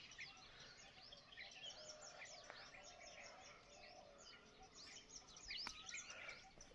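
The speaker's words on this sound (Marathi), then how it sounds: "पक्ष्यांचा किलबिलाट होतो." Many birds chirping in hilly countryside beside a road, a dense continuous chorus of quick overlapping tweets and calls, fairly faint and distant.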